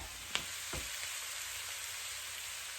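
Kung Pao sauce hits a hot pan with peanuts and sizzles steadily, with a couple of sharp pops early on and a soft, continuous frying hiss underneath.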